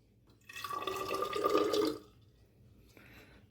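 Water from a small container pours into a measuring cup while testing petrol samples at a fuel station, a steady trickle for about a second and a half, then a fainter brief splash near the end.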